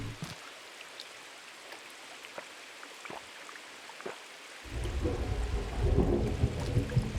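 A thunderstorm in a video game: faint rain patter with soft crackles gives way to a swelling low rumble of thunder that grows louder and fills the background toward the end.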